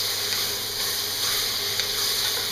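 Beef browning in a pot for stew, a dense, steady sizzle and crackle of meat frying in hot fat, close and continuous with no voices.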